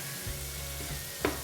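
Fish pieces frying for Karachi-style fish katakat give a steady, fairly quiet sizzle with one brief louder spatter near the end, heard alone without talk.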